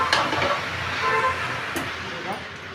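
Veg Hakka noodles stir-fried over a high flame make a steady sizzle with occasional clinks and tossing sounds, as a faint voice talks over the cooking.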